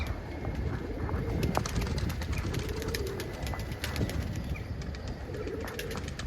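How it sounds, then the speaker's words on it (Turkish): Pigeons or doves kept in coops coo steadily and close by, with light chirps and rustling from the flock in a continuous outdoor bed of sound, and no talking. "Şu kuşları da çekeyim az bir şey size. Maşallah hayvanların neşesi yerinde."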